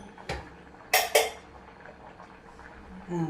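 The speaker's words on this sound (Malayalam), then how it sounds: "നമുക്ക് കുക്കർ തുറന്ന് നോക്കിയാലോ" A pressure cooker of cooked lentils is opened in a home kitchen. A light knock is followed by two sharp metallic clanks of lid and pot close by, then a softer rattle of utensils.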